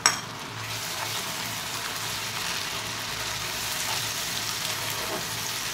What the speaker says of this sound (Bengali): এবার পেঁয়াজটাকে ভাজতে থাকবো।